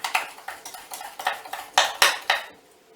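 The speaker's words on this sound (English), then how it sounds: "just mix in that liquid paraffin to the sugar so that it's all mixed in" Liquid paraffin being stirred into sugar in a mixing bowl for an eggless, butterless cake, giving a steady run of about ten close scraping strokes against the bowl, clear and alone with no voices.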